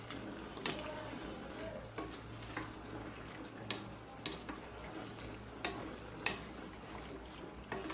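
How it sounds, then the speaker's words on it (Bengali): Goat meat with vegetable stalks, bay leaves and cinnamon is braised and stirred in a hot pan: a steady close sizzle with sharp spoon scrapes landing roughly every second, and no talking. "আর এক মিনিট কষায় আমি পানি দিয়ে দেবো"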